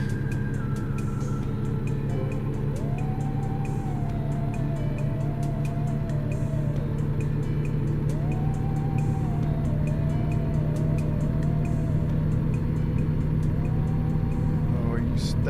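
A pickup truck engine in a hunting video game drones steadily at a constant speed without slowing, joined by a recurring rising-and-falling whine, with a faint voice underneath.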